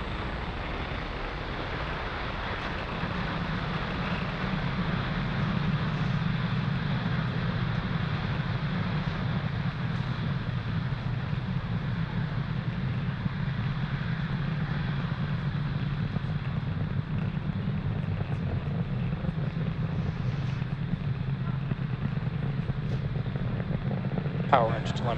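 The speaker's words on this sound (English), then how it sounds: "Falcon 9 has successfully lifted off from pad 40." A SpaceX Falcon 9 rocket lifting off from pad 40 sends out a continuous, distant, broadband rumbling roar that holds steady for a long stretch with no clear talk over it.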